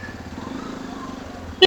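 A Hero Xpulse 210 motorcycle with a freshly tightened silencer idles with a low, steady engine rumble, followed by a short sharp clack near the end.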